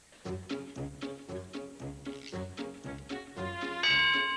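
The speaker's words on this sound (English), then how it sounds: "There goes the bell." A game show bell sounds in a rapid series of bright repeated tones, rhythmic and evenly spaced, closing with a brighter sustained ring near the end, loud and close in a television studio.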